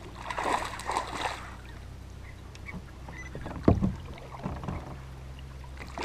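A fishing kayak setting off from a launch ramp onto a lake, with soft paddle strokes and water sloshing, plus one sharper knock or splash midway, close but fairly quiet against a low outdoor background.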